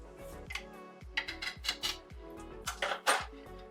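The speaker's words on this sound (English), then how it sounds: "I'm going to be using a heavier spoon to mix all this together" Batter for Jamaican-style rock buns with coconut being stirred by a heavy spoon in a bowl, giving repeated scraping and clinking strokes at an uneven rhythm, close and fairly quiet, with no talking.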